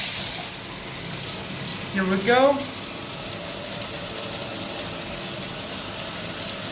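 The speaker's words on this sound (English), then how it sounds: "Let's turn on the shower." Hot water runs steadily from a bathtub shower in a home plumbing test, a constant broad hiss with a brief splashing surge as the flow starts, while a person speaks briefly.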